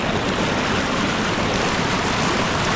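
River water rushing at the Tagkawayan Falls in a forest, a dense, continuous roar of flowing water heard close and loud, steady throughout with no voices.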